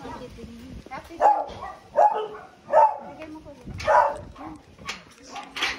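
A dog barks several times in separated bursts outdoors during a neighborhood rosary gathering, mixed in with people talking nearby.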